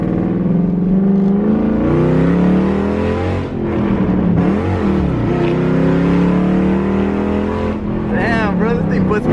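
A car engine revs and pulls hard as a new driver gives it gas, a sustained strong engine drone rising in pitch with a passing-vehicle swell near the end, while people talk over it throughout.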